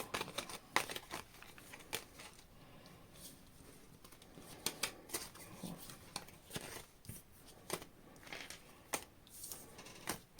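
Tarot cards being shuffled by hand for a reading, giving repeated quiet papery riffles and taps in irregular bursts, close and soft, with faint speech in places.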